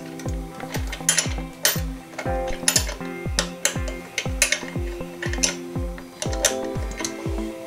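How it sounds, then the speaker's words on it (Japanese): A washer and bolt are fastened on the front brake of a Yamaha Serow 225 during an overhaul, with a ratchet wrench giving a long run of close, crisp metallic clicks in an uneven rhythm and no talk. "このワッシャーとボルト、これで止めていきます。"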